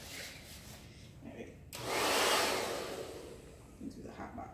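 A hair dryer blows on curly natural hair in starter locs, a loud broadband rush that switches on abruptly, holds for about two seconds, then fades back to quieter room sound.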